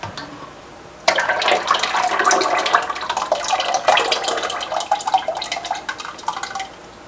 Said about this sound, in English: So I'm going to pour my lye solution into here.